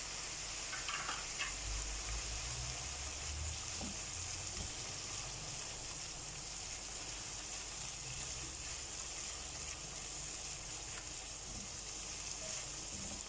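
Spiced masala for a liver curry frying steadily in a pan, a continuous dense sizzle with soft stirring at moderate loudness throughout.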